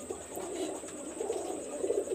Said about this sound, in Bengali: আমি আপনাদের মাঝে কিছু কবুতর আমি দেখাবো, আমার ঘরের কবুতর